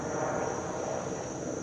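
A helicopter flies overhead outdoors while perennials are potted up in a garden, a steady, continuous rotor and engine drone that stays fairly loud and even throughout.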